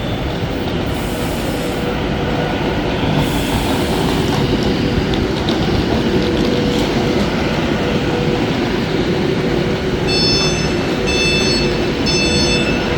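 An 11-car train runs through Crewe station, a loud, continuous rumble of wheels and carriages close by, with rhythmic clickety-clack and high, intermittent wheel squeal near the end.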